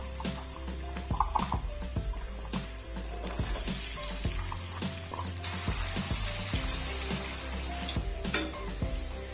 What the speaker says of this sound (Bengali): এবার আলুগুলো আমি ভেজে তুলে নেবো